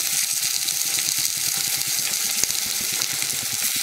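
Potatoes sautéing in a pan for Chettinad onion kosu, a steady soft sizzle with faint crackles and a light stirring rhythm, fairly quiet and heard alone.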